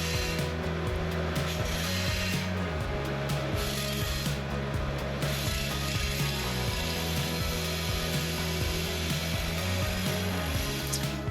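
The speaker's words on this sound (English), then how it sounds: "I just use a belt sander for that" A belt sander smooths the edges of a hammer-formed sheet metal bucket seat cab brace for a 1969–72 Chevy/GMC C10, giving a steady close motor whir with gritty rubbing and regular ticking, no talk.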